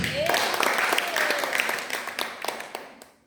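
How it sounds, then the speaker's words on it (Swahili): A church congregation claps in a brief burst of applause, dense at first and then thinning into scattered claps as it fades out. "Makofi mengine"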